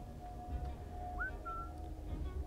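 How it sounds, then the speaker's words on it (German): Short whistle in the video game Assassin's Creed Syndicate, one quick rising note followed by a brief held tone over a low ambient game hum. "So, jetzt haben wir den mal gepfiffen."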